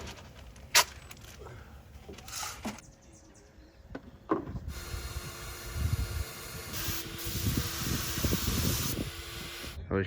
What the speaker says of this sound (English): We're testing the spray gun.